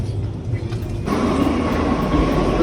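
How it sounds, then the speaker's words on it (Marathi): A metro train rumbles at a metro station, a loud steady low roar that swells partway through as the train moves, close and continuous, with faint murmur in the background. "आता आम्ही सध्या मेट्रो स्टेशनला आहे."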